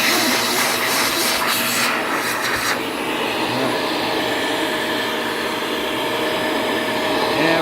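A Shark cordless vacuum cleaner runs at full suction with a loud, steady airy whine close by, and a few brief clattering knocks come in the first seconds.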